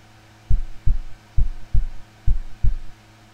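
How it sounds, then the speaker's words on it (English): Heartbeat sound effect in the video game Midnight Evil: six low, thudding beats in paired lub-dub rhythm over a faint steady hum, close and alone. "What's that heartbeat thing?"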